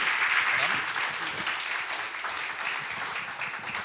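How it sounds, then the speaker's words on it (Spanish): Applause from an audience, a dense steady patter of clapping that slowly fades. "Un aplauso de nuevo para Marcelo."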